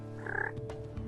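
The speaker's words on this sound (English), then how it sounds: "The 2-inch hook is great for making soft yelps and kikis and purrs." A turkey call produces a short run of soft, yelping hen notes, close and fairly quiet, followed by a couple of faint clucks against low background hum.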